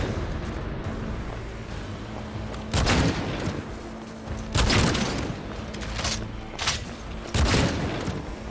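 Heavy gunfire from the video game Cyberpunk 2077 on Xbox Series X rings out in several loud booming bursts spaced a second or two apart, with a rumbling background between them.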